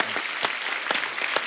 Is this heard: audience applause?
yes